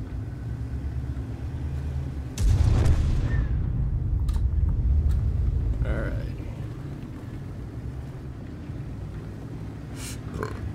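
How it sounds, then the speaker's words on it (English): Gunfire aimed at the player in the game Mirny 13, heard as a sudden heavy boom followed by a rumbling tail and a few fainter shots, with a voice talking over it. "quit shooting me"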